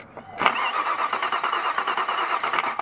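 A car engine cranks on the starter during a starter test, then fires and settles into a steady, fairly loud idle with a rhythmic pulsing that continues to the end.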